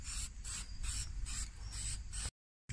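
A spray can paints the wheels of a 2006 GXP car with the tires still on, in a series of close, loud hissing bursts with short pauses between them, ending abruptly in silence.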